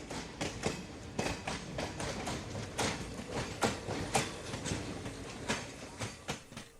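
Heard from inside a compartment of an Indian passenger train, the carriage rattles along the rails with a steady run of rhythmic clickety-clack wheel beats over a constant low rumble.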